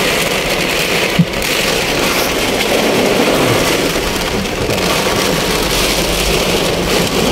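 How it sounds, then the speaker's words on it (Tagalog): Heavy rain roars steadily with gusting wind, a dense, loud wash of noise with one brief knock partway through. "Lakas ng ulan oh. Tsaka hangin."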